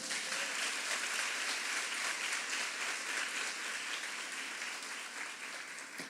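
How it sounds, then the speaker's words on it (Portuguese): Church congregation giving a strong round of applause, a continuous, even roar of many hands clapping that holds steady throughout, heard from a distance without talk over it. "Quem recebe essa palavra, dá um forte aplauso a Jesus."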